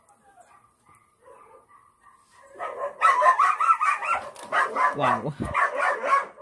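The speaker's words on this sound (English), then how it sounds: "And the dogs in the neighborhood are getting on really bad." Several neighborhood dogs bark and yip loudly close by, a quiet stretch giving way to a rapid, continuous run of barking with a whimpering edge, and a voice briefly exclaims early on.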